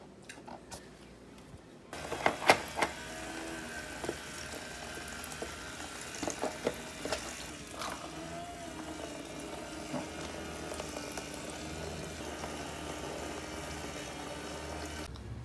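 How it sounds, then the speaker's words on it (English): Kitchen sink tap running, a steady rushing stream of water that starts after a brief quiet moment, with a few clatters of objects in the basin early on. "Turn the sink on"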